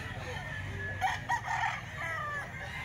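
Gamefowl roosters for sale at a market crow in the middle of the stretch, fairly near, over a dense bed of crowd noise and low rumble.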